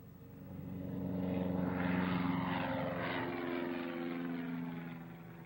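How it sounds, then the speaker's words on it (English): A propeller plane takes off from a rural airport near Clinton, Maryland, its droning engine swelling steadily louder, holding at a strong roar, then easing slightly as it pulls away, with no voices. "a plane zooms away from a rural airport near Clinton, Maryland"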